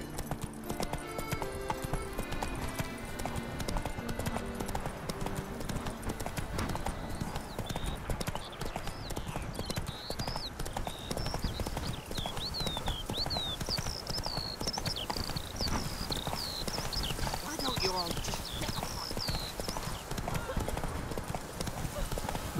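Roach the horse gallops hard in The Witcher 3, fast close hoofbeats driving beneath game music and birdsong, while someone talks over the run.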